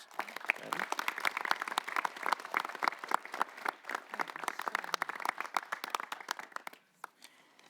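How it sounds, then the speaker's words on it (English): A round of applause fills the room at an Orange County Hall of Fame ceremony before the Board of Supervisors, dense sharp claps from a seated audience sustained for about seven seconds and then trailing off into scattered final claps. "A round of applause, please."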